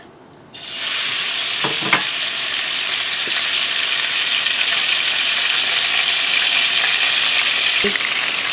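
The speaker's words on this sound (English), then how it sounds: "we're sauteing the samgyeopsal" Samgyeopsal pork belly sautéing in a pan for jjajangmyeon, a loud steady sizzle that starts abruptly and holds, with a few clinks of a utensil against the pan, no talking.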